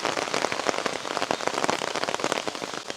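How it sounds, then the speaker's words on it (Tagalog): Heavy rain pours steadily onto umbrellas in a bamboo-lined spot in Kyoto, a dense, continuous patter of close drops with no pauses throughout. "Ang lakas ng ulan ngayon."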